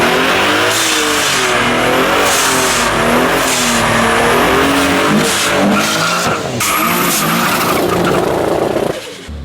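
A turbocharged BMW 135i with a massive single turbo and heavy nitrous accelerates hard in a street race, engine roaring and revving through gear changes with tire squeal, loud and close throughout.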